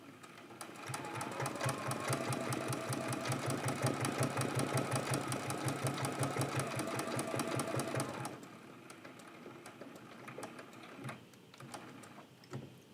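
A sewing machine stitches quilt pieces in a fast, steady mechanical whir with even rapid needle clatter for about eight seconds, close and clear, then stops, leaving faint handling noises.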